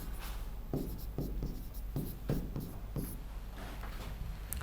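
Pen or pencil writing by hand on paper, a steady scratch with short repeated strokes, close and clear with no talking.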